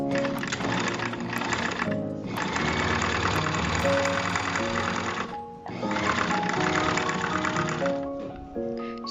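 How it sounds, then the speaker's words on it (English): Sewing machine stitching a corset, running loud and steady with brief pauses, its rapid mechanical whir and clatter filling nearly the whole stretch. "So while I'm sewing, I didn't notice that this is much wider than this"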